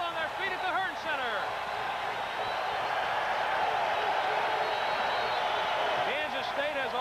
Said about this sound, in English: Listen to this crowd. They're all on their feet at the Hearn Center.